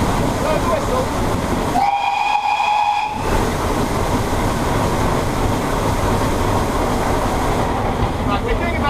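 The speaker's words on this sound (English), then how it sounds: "As we go into the tunnel, then blow the whistle just as we're inside." A steam locomotive blows its whistle as it enters a tunnel: one loud, shrill blast of about a second and a half over the steady, heavy roar of the moving train.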